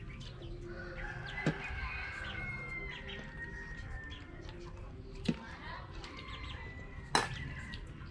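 A rooster crows in a Vietnamese rural setting, several long drawn-out calls at moderate distance over steady background noise, with sharp knocks or flaps punctuating the scene and people talking nearby.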